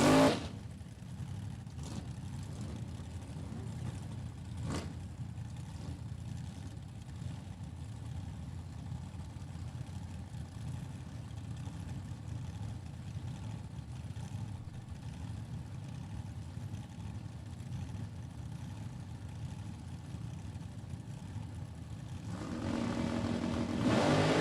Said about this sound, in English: The 65 Coronet 540 cubic inch Mopar stack injected power plant.